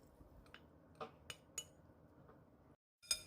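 Ice cubes dropped into a bowl of squid mulhoe give a few faint, sharp clinks and taps against the dish, scattered singly over quiet background with a final brighter clink.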